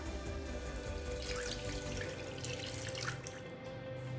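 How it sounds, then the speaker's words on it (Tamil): Water is poured steadily into a cooking pan of sautéed ingredients for thuthuvalai rasam, a continuous splashing hiss, fairly close and unbroken, with no talking over it. "இது கூடவே தேவையான அளவு தண்ணி சேர்த்துக்கலாம்."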